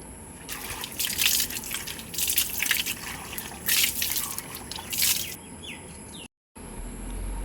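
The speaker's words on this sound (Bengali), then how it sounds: "সকাল সকাল আমি ঘুম থেকে উঠে জল নিতে এসেছি বাইরে কলে রান্না করার জন্যে" Water gushing from an outdoor tap in the morning, coming in uneven bursts of splashing with quieter gaps between, and faint birdsong in the background.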